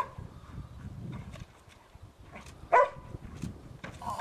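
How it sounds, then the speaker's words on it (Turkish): A trained gendarmerie search dog barks to signal a survivor during a rescue exercise, giving a single sharp, fairly close bark amid quiet shuffling and footsteps. "Şu an havlayarak canlı insanın orada olduğunu bildiriyor."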